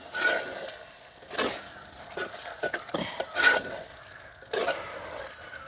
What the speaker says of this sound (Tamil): பழப்புளி கரைச்சி எடுத்து கிண்டி விடுவோம்